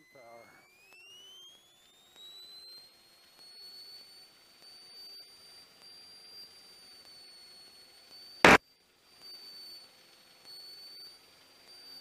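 A small airplane's engine rises to takeoff power on the takeoff roll, a steady, climbing whine that settles into a sustained drone, with a brief loud click partway through.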